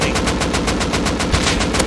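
Rapid automatic gunfire from the Rust video game during a raid firefight, a steady dense stream of loud, close shots with no pauses across the whole stretch.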